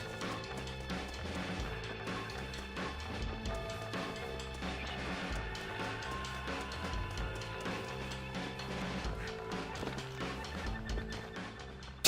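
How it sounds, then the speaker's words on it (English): A horse gallops and whinnies in the Red Dead Redemption video game, with steady hoofbeats under a dense, continuous wash of game music and effects. "Jack, Narlin, get on this horse."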